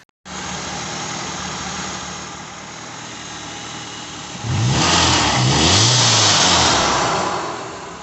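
A car's 2.3 turbo engine, freshly fitted with a new exhaust manifold and injector O-rings, runs close up in a steady idle, then rises into a louder, throatier rumble with slow rev swells.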